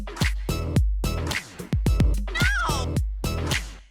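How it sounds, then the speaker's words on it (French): A cat meows repeatedly inside a small white box, a series of loud, close yowls in quick succession with brief gaps between them, one call rising into a wavering, strained pitch. "Ok, c'est le bruit d'un chat?"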